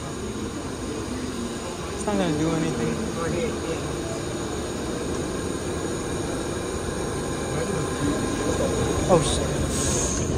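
An MTA holiday train of vintage cars on the New York subway rumbles along the track, its wheels squealing in short bursts over a steady roar, while passengers talk nearby.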